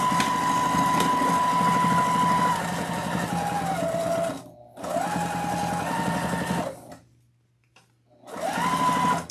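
A domestic sewing machine stitches a fabric seam on a Victorian witch Halloween wreath attachment. It whirs steadily and close in three running bursts, with short pauses in between.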